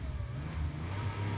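A supercar engine revs briefly in a short, steady burst of mid-pitched growl.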